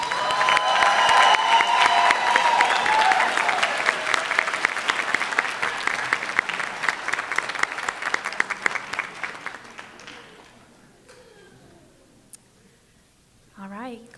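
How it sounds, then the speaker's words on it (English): A crowd at a 2023 school graduation ceremony claps and cheers loudly for the graduates, the applause thinning into scattered claps and fading out, with a brief voice at the end. "Let's give our graduates one more round of applause."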